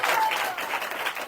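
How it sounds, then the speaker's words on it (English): Audience applause for the host at a Hare Krishna celebration, a brief dense burst of many hands clapping, fairly loud and continuous. "one big clapping for the host"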